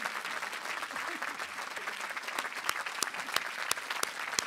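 Applause at a Williams College commencement ceremony for retiring faculty, a steady wash of clapping from a large audience with sharper individual claps standing out, moderately faint and continuous.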